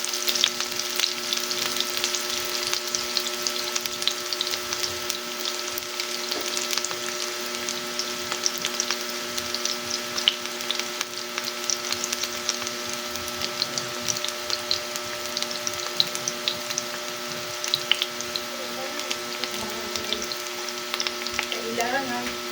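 Oil frying and splattering in a pan, a steady close hiss and crackle with scattered pops throughout, no talking.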